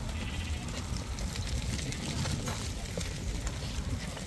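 A large flock of sheep offered for sale, about 250 head, bleats amid dense, noisy outdoor background, the calls blending into a steady clamour with some voices mixed in.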